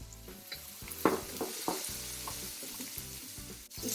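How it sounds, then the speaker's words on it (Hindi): Medium chopped onions frying in a pan, a continuous close sizzle with occasional stirring scrapes and light knocks throughout. "अब ये अनियन 2 मिनट्स में हमारा फ्राई हो गया"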